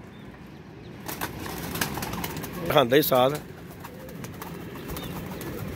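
Pigeons at a rooftop pigeon-flying event, with wings flapping in a short burst around the middle and soft cooing and bird calls mixed in, under people talking nearby.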